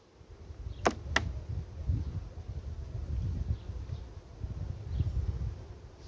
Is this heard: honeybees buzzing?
yes